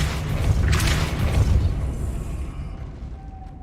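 Casting the Depulso spell in Hogwarts Legacy gives a heavy booming blast with a crackling burst near the start, followed by a rumbling tail that fades away over a few seconds.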